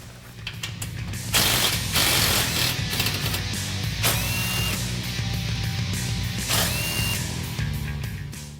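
A power tool whirs and ratchets in bursts while removing 10mm and 8mm brake line bolts on a 2017-2019 Ford F-150 Raptor during a leveling kit install, loud and close with clicking mechanical spin-downs between runs.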